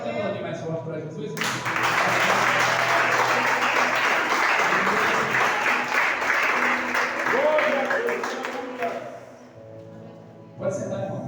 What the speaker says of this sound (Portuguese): Você pode aplaudir mais forte para Jesus?